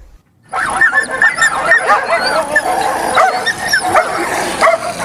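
Several dogs bark and yip excitedly in a continuous, overlapping chorus, loud and close, with some whimpering and high yelps mixed in after a brief quiet start.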